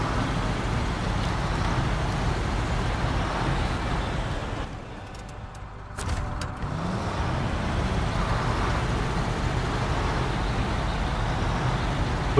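A SnowRunner truck churns through mud in the Black River area of Michigan with a continuous heavy engine roar. It dips briefly midway, then resumes at full strength.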